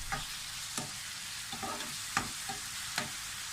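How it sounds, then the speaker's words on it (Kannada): Ginger garlic paste frying with mashed squid in a pan: a constant sizzle with regular stirring scrapes and spoon taps every half second or so, close and fairly quiet, no talking. "ಜಿಂಜರ್ ಮತ್ತು ಗಾರ್ಲಿಕ್ ಪೇಸ್ಟು ಇದನ್ನು ಇದಕ್ಕೆ ಹಾಕಿ ಸ್ವಲ್ಪ ಫ್ರೈ ಮಾಡ್ಕೊಳ್ತೀನಿ"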